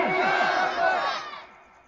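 A crowd at an Islamic jalsa gathering in Kumharpur answers the Naara-e-Takbeer call with a loud, rhythmic collective chant that lasts about a second and a half before fading.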